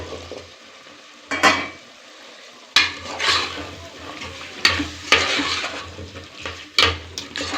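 Diced potatoes are stirred into masala in a hot pan for a potato gravy, with repeated scraping strokes of a spoon against the pan over a low sizzle, loud and close.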